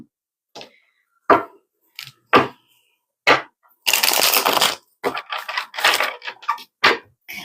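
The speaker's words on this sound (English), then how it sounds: "we're going to give everything one more shuffle" Tarot cards being shuffled by hand: a series of short crisp riffles and snaps, then a longer dense burst of card flutter, followed by more quick irregular clicks, close and fairly loud with no talking.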